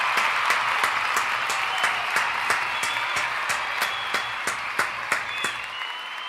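Audience applause rolls on steadily, dense clapping with evenly spaced sharper claps standing out in a regular rhythm, and it thins out near the end.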